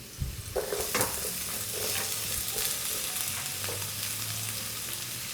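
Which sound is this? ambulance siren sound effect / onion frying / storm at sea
onion frying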